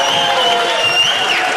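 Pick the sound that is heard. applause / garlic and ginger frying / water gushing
applause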